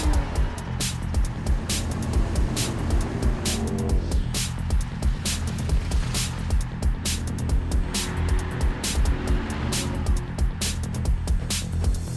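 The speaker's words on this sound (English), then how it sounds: "This is the Mitsubishi ASX" A Mitsubishi ASX car driving, its engine and road noise forming a steady low rumble throughout, with regular sharp ticking transients layered over the drone.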